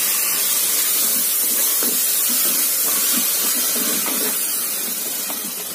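Four chopped tomatoes hit a hot pan of softened onions for mushroom biryani, giving a steady, close hiss of sizzling with faint scattered crackles, dying down slightly toward the end.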